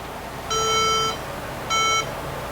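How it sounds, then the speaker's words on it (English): Used second-hand computer at power-on giving two clear electronic beeps, a longer tone then a shorter one after a pause, loud over a steady hum of background noise. "Well, it gave me a beep or so."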